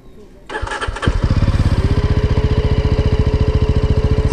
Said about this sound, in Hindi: और ये किल स्विच और इंजन के साउंड एक बार सुन लो आप।